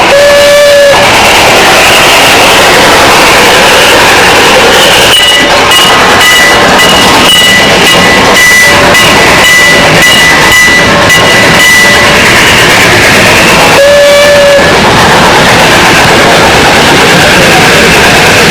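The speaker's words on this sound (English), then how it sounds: "They have an outdoor garden railroad." Outdoor garden model railroad train running, a continuous loud rolling rumble with rhythmic clicking, sustained tonal whistle notes and breathy steam-like hissing throughout.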